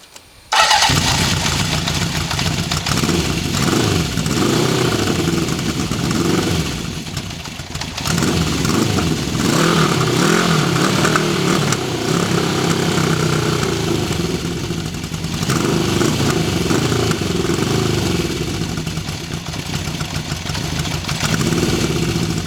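A 1974 Honda CB750 motorcycle cold-starts with a brief crank and catches, then settles into a loud, steady, slightly uneven idle that runs close by for about twenty seconds with no talk.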